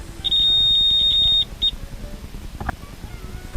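A digital multimeter's continuity buzzer sounds a steady high-pitched tone for about a second, then gives one short follow-up beep, clear against quiet room noise.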